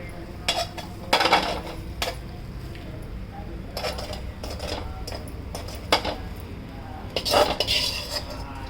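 Pulihora tamarind rice being mixed in a metal vessel, with irregular clinks and scrapes of a spoon against the pot over a quiet background.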